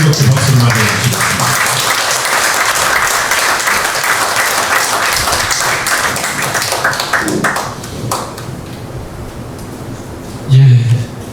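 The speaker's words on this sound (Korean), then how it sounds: "도지사님 나오실 때 우리 뜨겁게 박수를 맞아주시겠습니다." Warm crowd applause welcoming the governor of Jeonbuk at a church thanksgiving service, loud and continuous before tapering off, with a short burst of noise near the end.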